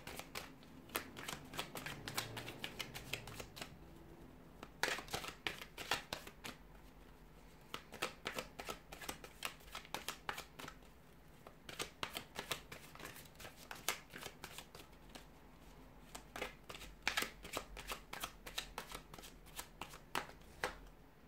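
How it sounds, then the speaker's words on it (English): Tarot cards are shuffled repeatedly up close, crisp riffling bursts and flicks in quick irregular runs with short pauses between. "we'll go ahead and give the cards a shuffle"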